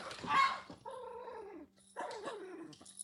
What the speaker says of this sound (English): That was my little puppy.